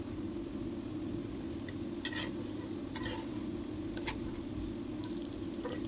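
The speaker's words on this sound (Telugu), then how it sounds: "పెనం మీద వేసుకుని నేతితో అటు ఇటు తిప్పుతూ దోరగా కాల్చుకోవాలి" Ragi flour dough roasts in ghee on a pan, a low steady sizzle under a few light scrapes and taps as it is turned, close and quiet without talking.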